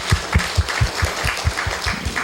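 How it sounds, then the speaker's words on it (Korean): A church congregation claps after a baptism service, a steady rhythmic beat of hand claps with low thumping pulses about four times a second, fairly close and continuous. "우리 다시 한번 주님 감사 박수 드리겠습니다."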